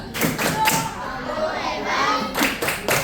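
A group, apparently children, performs a rhythmic 'tepuk hebat' clap chant: bursts of sharp hand claps in a quick pattern, a pause, then a further run of claps, with voices chanting along.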